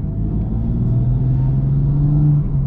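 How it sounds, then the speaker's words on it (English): BMW M4 with a CTS turbo intake accelerating and letting off, heard as a steady low engine rumble with a rising whine, sustained and fairly loud with no talk. "This video is literally me accelerating and letting off."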